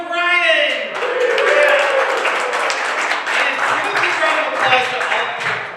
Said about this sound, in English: Give a big round of applause to all of your comics tonight.